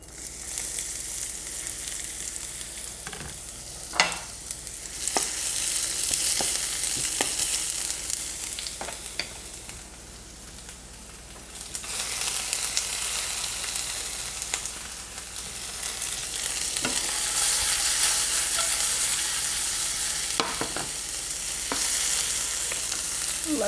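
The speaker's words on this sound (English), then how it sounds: "Get a little bit of oil in my skillet. Cook the onion first." Onion cooking in oil in a skillet, a steady sizzle that swells and dips over time, punctuated by occasional clacks and scrapes of a spatula.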